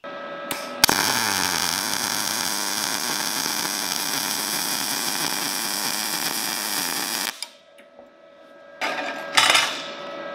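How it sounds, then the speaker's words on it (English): A Sherman DigiMig 215 MIG welder runs a butt weld with a continuous loud crackling buzz for several seconds, then cuts out to near silence, followed by a couple of short bursts of crackle. "I'm going to try to just make a normal butt weld"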